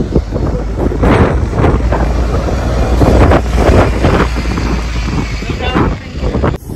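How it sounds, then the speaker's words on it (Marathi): Strong wind buffets the microphone on the open deck of the MSC World Europa cruise ship in Qatar, producing loud continuous roaring gusts that swell and dip, with someone talking underneath. "बापरे, काय हवा येते ना, एवढी हवा येते ना."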